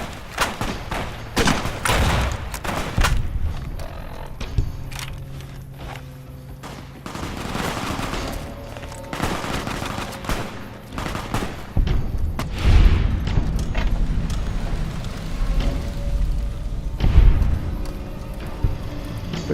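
Gunfire in Fallout: New Vegas, with a dense run of rapid shots and heavy thuds that continues throughout and lands loud and close, with scattered booms layered over it.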